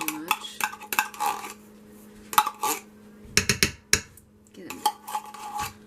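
A spoon scrapes and clinks against a container while digging out thick tomato paste for a vegetable beef stew, in irregular bursts of scraping with short metallic taps, close up and fairly loud, no talking.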